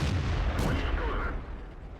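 A tank cannon round slams into a Churchill tank in World of Tanks, a loud, booming impact and rumble right up close, with low battle noise filling the short moment.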